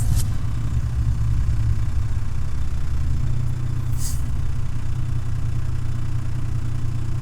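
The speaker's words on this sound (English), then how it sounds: "I'm going to press the clutch in, and I'm going to turn the engine on." A truck's diesel engine idles with a steady low rumble after starting up, filling the cab evenly with faint hiss and a brief click; nobody speaks.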